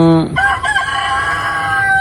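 A loud, close rooster crow rings out from a mixed heritage chicken, a long drawn-out call with a rising and falling tone.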